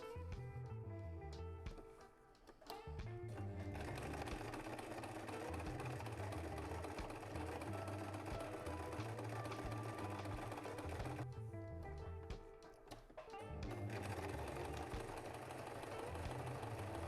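Sewing machine stitching a round double cushion for stands, running in a steady continuous whirr with two brief pauses where the motor stops before resuming.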